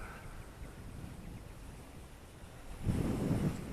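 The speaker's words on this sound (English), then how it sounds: "it's getting pretty windy" Wind buffeting an outdoor microphone during a flight of a small remote-control P-51D Mustang plane, a low rumbling whoosh that swells into a stronger gust near the end.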